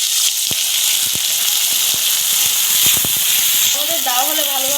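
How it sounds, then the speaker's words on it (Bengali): Ginger garlic paste goes into hot oil with fried onion for an egg curry, giving a steady hiss and sizzle broken by sharp spatula clicks, with a voice briefly audible toward the end. "এবার আমরা আদা রসুন পেস্ট যেটা ছিল সেটা দিয়ে"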